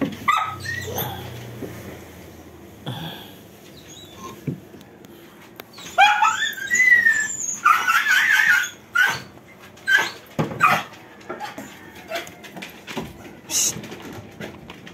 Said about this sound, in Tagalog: Mga doggy.